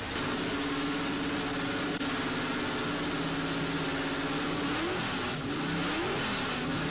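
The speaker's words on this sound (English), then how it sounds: "the bigger engine Formula Leib cars line up for their practice session" Over-2-litre single-seater racing cars from 1990 rev their engines loudly and continuously, a dense mechanical roar with a rising and falling pitch sweep toward the end.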